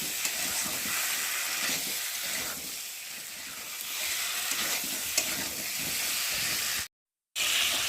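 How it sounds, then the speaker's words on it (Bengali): Spice paste frying in oil in a pan, a steady close sizzle and hiss with scraping stirs, continuous apart from a brief cut near the end. "মশলাটা আমি কষিয়ে নেব তেলের মধ্যে"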